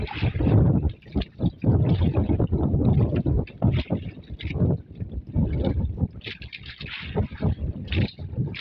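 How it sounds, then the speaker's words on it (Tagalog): Gusty wind buffets the microphone in strong, uneven bursts near water, with rumbling low-end blasts that rise and drop over several seconds, while someone speaks briefly in the background. "Hangin."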